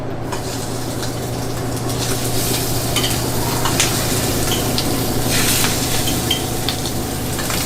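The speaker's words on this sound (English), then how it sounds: "So we're going to start with a nice pan, and we're going to add our shrimp." Shrimp for a roasted shrimp and chorizo pozole fry in a hot pan with a loud, continuous sizzle and crackle, accompanied by stirring and scraping noises and a steady low hum underneath.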